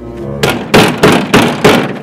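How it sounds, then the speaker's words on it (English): Four heavy, evenly spaced knocks on a gate, loud and close, each a dull thudding impact with a short decay. "I am knocking gate now."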